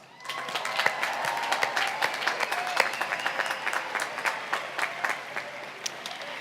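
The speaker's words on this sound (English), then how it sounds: "Let's offer them a round of applause." A crowd claps at a College of Engineering commencement, the applause swelling quickly after a quiet start, then holding steady with sharp individual claps standing out before gradually thinning toward the end.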